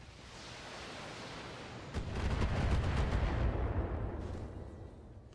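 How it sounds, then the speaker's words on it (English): An artillery strike in the Battletech video game: a low rumbling roar swells abruptly into a heavy, sustained blast of explosions that slowly fades, with no talking. "look like we are going to be well clear of the artillery strike"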